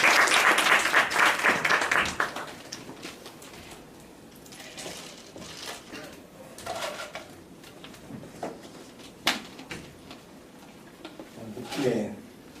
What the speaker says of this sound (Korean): 함께 같이 박수로 목사님 모시겠습니다.